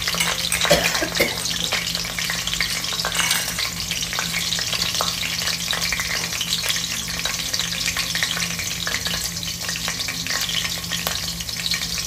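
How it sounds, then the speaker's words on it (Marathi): Whole spices and green chilli sauté in hot oil for a lentil biryani, giving a loud, steady sizzle that holds for the whole stretch, with light stirring scrapes along the way and no voices. "हे सर्व आता याच्यामध्ये खडे मसाले टाकून घेऊ आणि हे छान असं परतून घ्यायचं"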